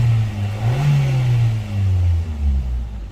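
A car engine runs steadily after starting, its low hum rising briefly as if revved, then settling into a smooth idle, close and fairly loud with no voices.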